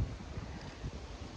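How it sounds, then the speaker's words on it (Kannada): Cool wind blowing beneath a tree on an open hillside, a steady breezy rush with low gusting buffets against the microphone, continuous and fairly close throughout. "ತಣ್ಣ ಗಾಳಿ ತೊಡಪ್ಪ ಗಿಡದ ಕೆಳಗಡೆ ಆರಾಮ್ ತಣ್ಣು ಮಲ್ಕೊಂಡಿವಿ"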